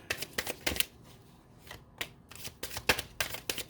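Tarot cards being shuffled by hand in a series of quick riffling bursts, each a short crisp flutter, separated by brief pauses, close and fairly quiet with no talking.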